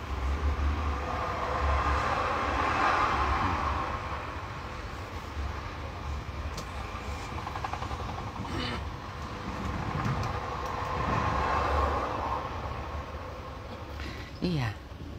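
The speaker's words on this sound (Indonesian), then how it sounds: "Kereta udah jalan pemirsa tuh." A passenger train rolls along with a low steady rumble and occasional clanks and squeals from the cars, heard from on board or nearby, with a voice talking at moments.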